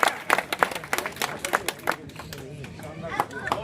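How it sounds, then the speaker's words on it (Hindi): Scattered clapping from a crowd at a political rally, individual claps standing out loosely over murmuring voices and background hubbub, fading somewhat before picking up again near the end. "बहुत बहुत जोरदार तालियां।"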